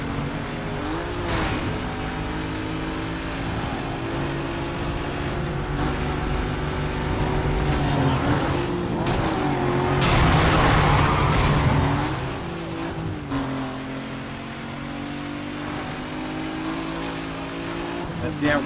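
Corvette racing in Need for Speed Most Wanted, with continuous engine drone and revving and a louder surge in the middle, under a person talking.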